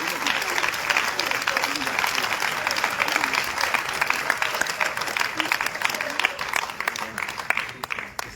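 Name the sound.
congregation cheering and applauding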